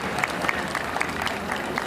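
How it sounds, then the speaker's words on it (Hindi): Applause from the audience at a national Tang Soo Do championship program, a steady patter of many hands clapping at moderate distance for about two seconds. "एक बार जोरदार ताली बजा के अपना अभिनंदन दें इनको"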